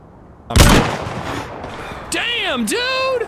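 A single loud burst of video-game gunfire in a survival shooter heading to Sakhal's bunker, a sharp close crack with a decaying tail, followed by wavering whistling tones.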